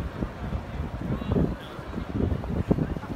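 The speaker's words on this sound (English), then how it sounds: "ooh, super windy" Strong wind buffets the microphone in a steady low rumble, with gusts rising and falling throughout.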